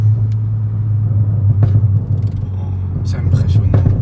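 A Volkswagen Polo R WRC Stage 2+ tuned to 400 hp hums and rumbles steadily with gentle acceleration, the deep engine drone heard from inside the car, close and loud, with brief higher bursts near the end.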